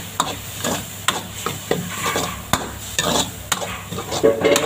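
Rice stir-fried in a wok with oyster sauce and seasoning sauce, a metal spatula scraping and clanking in a steady rhythm over a soft sizzle, close and with no talking.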